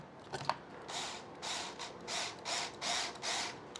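A tap cutting threads into plastic on an RC crawler build, a faint grinding whir coming in about six short rhythmic bursts after a small click.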